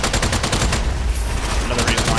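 SMG fire in Strange Brigade comes as rapid, loud bursts of repeated shots, a dense rattle that briefly thins before the firing picks up again.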